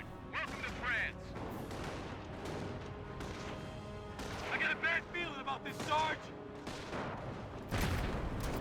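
Battle sounds from the Company of Heroes game, with a recoilless rifle blast and bursts of .30 cal machine gun fire mixed with explosions, all heard under continuous commentary.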